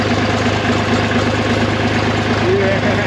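A John Deere 350B dozer, sitting idle all winter, runs at a loud close idle with a steady low rumble and rhythmic mechanical knock, with a person speaking briefly over it.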